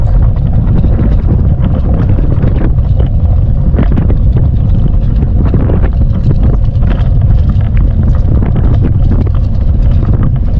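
Strong wind blowing at sea during a fishing trip, loud continuous buffeting rumble across the microphone with gusty bursts and no speech.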